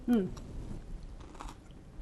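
Someone bites into a crunchy snap pea and chews it close to the microphone, a sharp crisp bite followed by soft wet crunching, with a voice briefly heard at the start.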